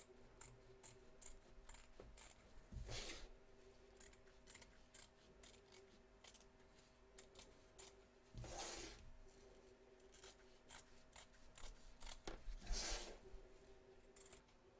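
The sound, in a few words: scissors trimming excess fabric around embroidery hoop stitches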